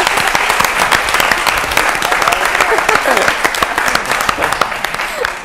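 A television studio audience on an Italian football show bursts into dense, lively applause, sustained clapping throughout with voices talking over it.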